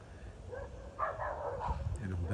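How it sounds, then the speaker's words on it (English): Several dogs bark in the neighbourhood at moderate distance, the yaps and woofs bunched into a burst that swells near the middle and runs on through the rest, over steady outdoor background noise. "And all the dogs start barking."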